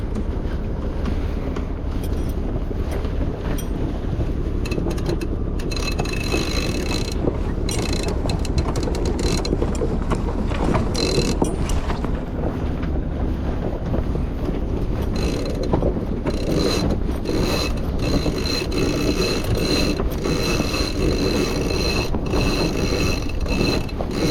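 Aboard a sailboat on a sunny November day, the head sail is taken in as a winch ratchets in bursts of clicking, over steady wind buffeting and rushing water.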